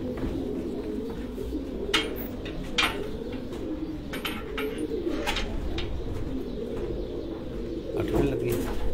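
Racing pigeons at a Farran pigeon sports tournament in Gujrat coo in a continuous low murmur, with occasional sharp clicks and knocks scattered over the flock sound.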